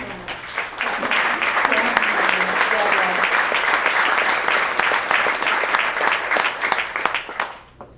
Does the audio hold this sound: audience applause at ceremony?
yes